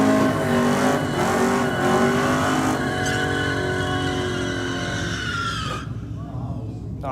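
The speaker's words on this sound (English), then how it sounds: "What a sick burnout there from the VN Commodore." VN Commodore doing a burnout at a Sydney Dragway drag racing event, a loud sustained engine roar with screeching tyres that holds steady before cutting out near the end, with crowd or commentary noise mixed underneath.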